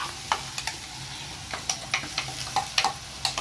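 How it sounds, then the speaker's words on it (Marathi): Onion sautéing in a pan, then tomato paste added: a steady low sizzle with light, irregular clicks and taps of a spoon stirring against the pan, close and moderately loud, with no talking. "कांदा थोडासा अगोदर परतून घ्यायचा, 2 मिनिट का होईना हे असा, आणि नंतर आपली टोमॅटोची पेस्ट टाकायची"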